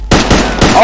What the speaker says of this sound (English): People are shooting at you.